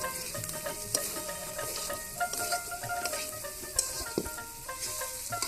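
Meat being stirred and fried in a large pot at an outdoor village picnic cookout, a fairly faint steady sizzle with scraping ladle strokes and occasional clanks.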